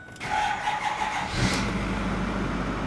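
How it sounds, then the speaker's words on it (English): A 6.4L diesel Ford F-250 pickup from 2008–2010 cranks briefly and catches, then settles into a steady, close diesel idle rumble with no talking. "Now let's turn the truck on, turn the ignition to the on position, wait for the glow plugs to cycle"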